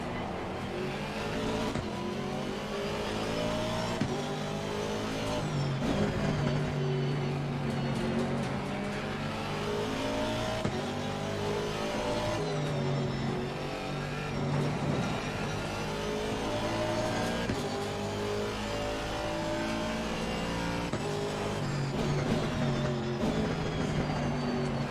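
Race car engines in Assetto Corsa Competizione roar continuously, a dense layered drone of GT cars including a Ferrari and a Lexus, with rising and falling revs and gear changes throughout, loud and without pause.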